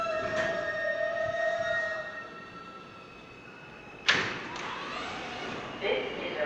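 A New York subway L train with R143 or R160A cars sits at Wilson Avenue station, its tonal motor whine fading out, then a sharp door thud and sliding rumble follow, with brief station noise afterward.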